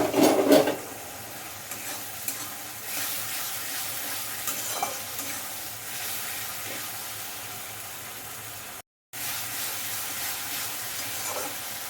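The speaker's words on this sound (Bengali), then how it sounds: "কিছুক্ষণ একটু নাড়াচাড়া করব" Spice masala sizzles steadily in a pan for Bengali ghugni as it is stirred, with occasional scraping strokes and a brief cut near the end.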